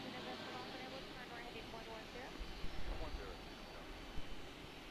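A JetBlue jet airliner takes off to Boston from Raleigh Durham airport, a broad distant engine roar that swells and rumbles under nearby talk and outdoor background noise.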